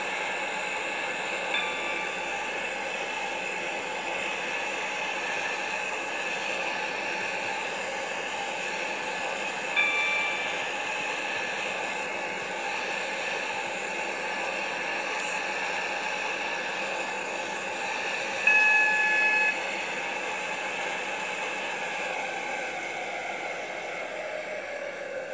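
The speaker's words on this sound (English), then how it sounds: "This train is now approaching Stepford Central." Steady rumble of a train running along the tracks in the Roblox game Stepford County Railway, continuous and even, with a couple of brief louder clunks partway through.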